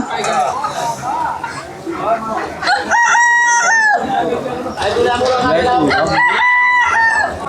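At a duck and chicken shop in Kashiabari market, a rooster crows loudly and repeatedly with long drawn-out calls while hens cluck, and people talk close by throughout.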